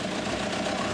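A TDI diesel swapped into an old Willys Wagon revs under throttle right after its first start, a loud, dense, steady engine roar recorded up close.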